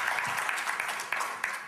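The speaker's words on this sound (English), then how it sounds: "Give them a round of applause." A seated audience at a sales training seminar gives a short burst of applause, a dense patter of clapping at moderate distance that fades out quickly.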